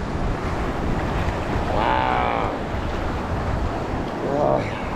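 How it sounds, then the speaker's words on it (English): Strong seaside wind buffets the microphone in a steady roar, with surf or water noise underneath and brief brighter swishes. "Oh, nice and windy."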